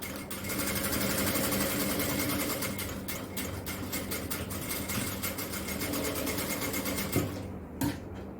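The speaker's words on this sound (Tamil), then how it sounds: "1/2 இன்ச் அளவுக்கு தைக்கலாம்." A tailoring sewing machine runs steadily, stitching a half-inch seam on a jalabiya garment, a close continuous whirring hum that stutters briefly near the end, with no speech.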